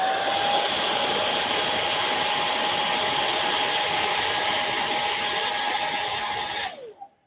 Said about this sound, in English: This is a test, so I want to see how this hairdryer comes across.